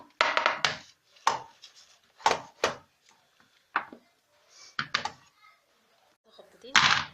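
A cake pan holding batter is knocked against a surface to level it, giving about nine sharp, hollow taps in irregular clusters with quiet gaps between, close and fairly loud.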